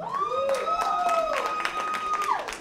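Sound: round of applause from comedy club audience

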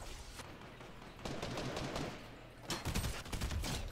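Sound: burst gunfire in the video game Fortnite

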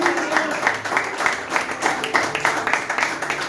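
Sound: congregation applauding in church

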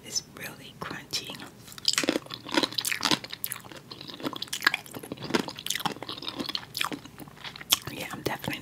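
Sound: crunchy food being chewed, ASMR eating

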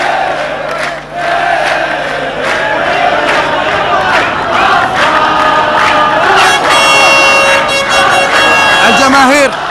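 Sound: football stadium crowd cheering after a goal

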